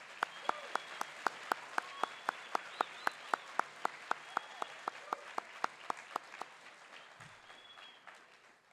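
Sparse applause at a school academic awards ceremony for award-winning students, with a few sharp, regular claps ringing out close by over a thin background patter, fading out after several seconds.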